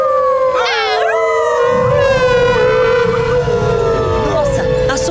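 Cartoon dogs howl together through a megaphone, several loud voices imitating long, wavering siren-like howls that rise and bend in pitch, layered over a heavy rumbling wash from the amplified sound.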